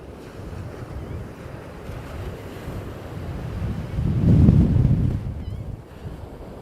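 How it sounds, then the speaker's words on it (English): Strong wind gusts roar across an open beach at Coney Island in Brooklyn, with rushing microphone buffeting and distant surf beneath, swelling to a loud peak near the middle of the clip before easing. "look at all this sand blowing because of the wind"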